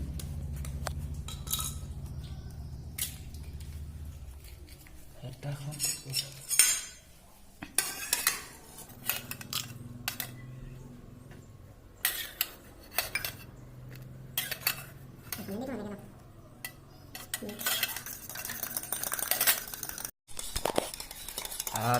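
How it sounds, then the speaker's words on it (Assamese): Eggs being mixed in a bowl while boiled potatoes are prepared in a home kitchen, with repeated clinks of a utensil against the bowl and some scraping and stirring, close and fairly steady. "ডিম ধুনীয়াকৈ মিক্স কৰি আছে"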